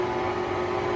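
An electric mixer stirring soft pretzel dough, a steady, even motor whir with a constant hum that runs unbroken from start to finish and no voices over it.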